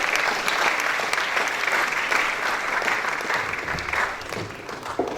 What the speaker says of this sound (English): Tunji, is that clap for him as he comes forward?